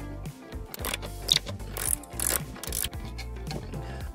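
A bolt being loosened with a ratchet on the inspection plate of a tractor cab floor near the seat mount, a close run of quick metallic ratcheting clicks in bursts with a brief pause, no speech.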